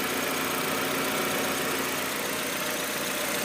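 Steady close engine running from a Honda Civic Aerodeck D15 after an alternator replacement, a dense even mechanical hum with a faint whine from the power steering pump and a rattle from a loose heat shield, constant throughout with no talk.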